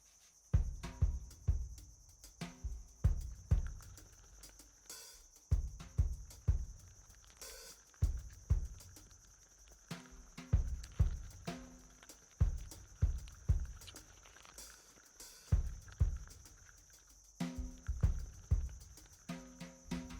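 The world's largest cricket sings on the Bissagos Islands, a loud, sustained high-pitched tone running throughout, with rhythmic rustling footstep-like patter repeating in the foreground.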